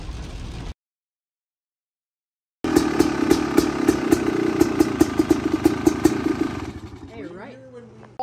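A 2022 Yamaha YZ250F dirt bike engine idles with a steady clattering four-stroke putter, close and fairly loud, after a brief gap of silence. A voice speaks over it near the end.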